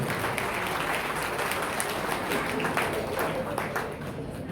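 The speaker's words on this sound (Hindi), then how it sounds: "बहुत बढ़िया भाई, तालियों से अभिनंदन कीजिए।" An audience at a Hindi poetry gathering breaks into sustained applause, dense and steady across the hall with a slight fade near the end.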